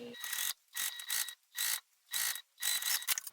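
A sewing machine running a basting stitch in short, regular bursts, about five mechanical whirring runs separated by brief pauses, close and clear with no talking.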